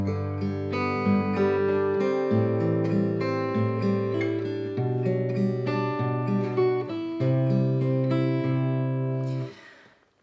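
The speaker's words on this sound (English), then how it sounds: "Now the second time we play the chord progression, we're gonna actually add a melody." Guitar playing a simple chord progression as arpeggios with a melody added over the top; clear plucked notes ring and overlap in a steady flowing pattern, close and clean, fading out at the end.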